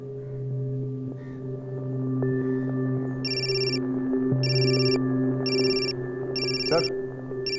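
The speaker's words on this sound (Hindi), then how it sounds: "राम सिंह का फोन है।" A telephone rings in four short electronic bursts in a jail office, loud over low, steady background music.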